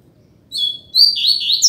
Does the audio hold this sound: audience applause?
no